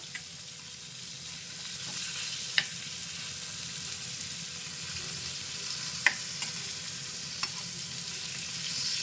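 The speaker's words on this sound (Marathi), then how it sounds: "एक एक करून पळतून घ्यायची ही हलवा मच्छी आहे" Halwa pomfret fish sizzles steadily in a frying pan, a constant bright hiss with a few sharp pops and spatters, close and continuous.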